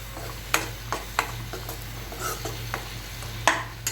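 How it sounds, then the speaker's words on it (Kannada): Masala fries in a pan for a snake gourd khurma, with a steady close sizzle broken by regular scraping stirs of a spoon against the pan, and no talking. "ಇಲ್ಲಿ ಮಸಾಲೆನ ಫ್ರೈ ಮಾಡ್ಕೊತಾ ಇದ್ದೀನಿ"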